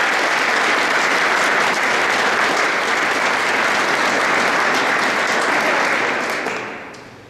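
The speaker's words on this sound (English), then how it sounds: "please help me thank them and give them a round of applause" An indoor audience at a city fire chief ceremony gives sustained, loud applause, a dense wash of many hands clapping that holds steady before tapering off at the end.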